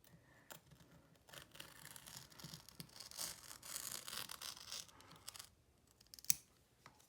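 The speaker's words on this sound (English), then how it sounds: "Trim off your excess to give your hand more working room." Scissors snip away excess paper from a Cheshire Cat zip bag craft, a quiet run of close, crisp cuts and rustles ending in one sharp snip.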